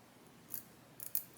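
Japanese cobalt steel beveled-edge shears click shut, giving three short, quiet metallic snips spaced across a near-silent background.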